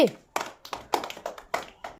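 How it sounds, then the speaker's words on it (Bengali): A few sparse, separate claps ring out at a children's bottle-knocking football game, each sharp hit well spaced from the next. "সবাই চলে একটা হাততালি।"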